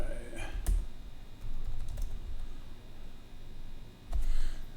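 Someone types at a computer keyboard with a soft, steady patter of key clicks and a few louder taps. The typing is close by and continues throughout.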